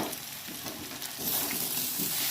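Boiled jackfruit and potato fry in spice paste and oil, making a dense, steady sizzle that grows a little louder midway, close up and without any talk.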